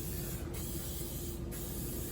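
Cooking spray hissing steadily onto a popover pan held over a kitchen sink, a continuous close, loud aerosol spray with two brief dips in pressure.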